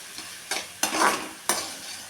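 Vegetables sauté in a pan for upma, a soft sizzle broken by three sharp scraping strokes of a spatula stirring, close and with no voices.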